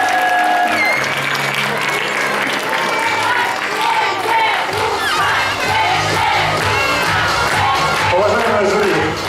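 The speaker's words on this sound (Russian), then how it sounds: "Бурные аплодисменты всем командам." An audience at a KVN comedy festival applauds and cheers loudly for all the teams, a sustained roar of clapping with shouts and whoops, close and full throughout, voices mixed into the din.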